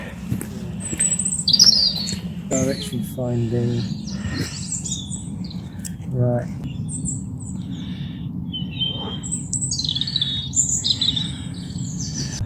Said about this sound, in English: Lovely birds.